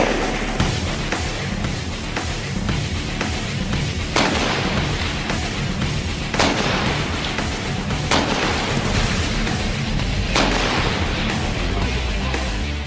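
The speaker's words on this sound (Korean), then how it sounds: "사수 사격 준비. 400m 조 동의 사격." Sniper rifle fire at long-range targets on a military range, with several sharp, loud shots spaced a few seconds apart over steady wind-like background noise.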